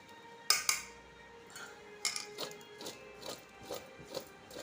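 A spoon mixes mango pickle with spice powder in a bowl, giving a series of light clinks and scrapes that recur at a steady pace, close and fairly quiet.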